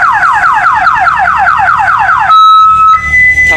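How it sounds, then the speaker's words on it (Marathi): A pickup truck's alarm goes off as the door is opened, blaring a loud, rapidly repeating siren sweep, then switching to steady electronic tones near the end. "तर हे उघडीला का हॉर्न वाजणार आहे."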